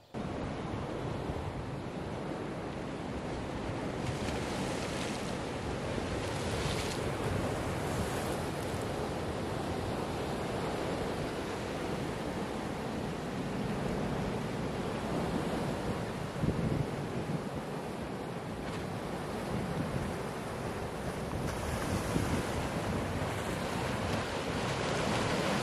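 Ocean surf rolls and breaks steadily on the beach at Barra de Navidad, Mexico, a continuous loud wash of waves with gusty wind rumbling across the microphone throughout.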